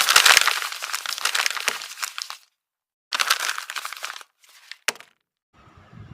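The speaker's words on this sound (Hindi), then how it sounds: "रुद्र अपने कैबिन में बैठा हुआ एक फ़ाइल के पन्ने पलट रहा था" Pages of a paper file are flipped in an office cabin, giving several close crinkling, rustling bursts separated by short silent gaps and ending with a faint rustle.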